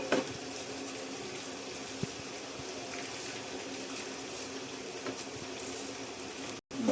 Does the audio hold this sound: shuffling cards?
no